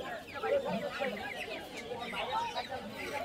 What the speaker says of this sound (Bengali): এখানে পাবেন প্রচুর হাঁস, মুরগি, বাচ্চা এবং কবুতর সবই পাওয়া যায়।